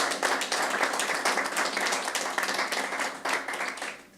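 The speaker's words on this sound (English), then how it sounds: "So please give them a round of applause for that." An audience at a nonprofit fund announcement gives a round of applause, a dense, steady patter of clapping that carries on without a break for several seconds.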